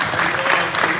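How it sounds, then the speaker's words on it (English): A short wash of audience applause, dense and continuous, with voices underneath, at a live speaking event. "give him a round of applause, you guys"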